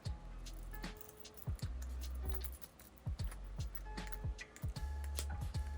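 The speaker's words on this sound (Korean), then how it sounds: "동전도 넉넉하게 들어가고요." Coins drop and clink into a small wallet with a cute bear design, a travel purse for bills and coins, in a run of sharp metallic clicks and jingles close up, with low background rumble and no talk.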